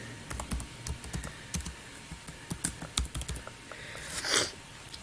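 Computer keyboard typing up close, a steady run of quick, light key clicks with uneven rhythm and a slightly louder flurry near the end, no voices.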